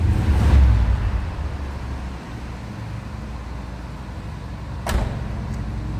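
The big heavy door of a 1980 Pontiac Turbo Trans Am Pace Car shuts with a single solid thud near the end, after a low rumbling start and a quiet stretch.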